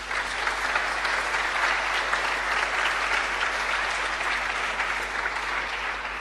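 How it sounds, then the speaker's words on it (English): A large audience applauds steadily and loudly at a hacker camp talk, the dense clapping holding even throughout with no voices over it. "Please give him a warm applause."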